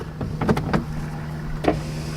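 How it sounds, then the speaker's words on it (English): Electric sunroof on an Abarth 124 Spider closing, a few short motor whirs and soft clunks close by in a quiet cabin, with no talking. "Close the sunroof."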